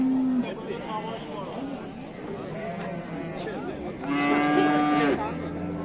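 Pregnant cows at a livestock market give two drawn-out moos, one short at the start and a louder, longer one near the end, amid the chatter of people talking close by.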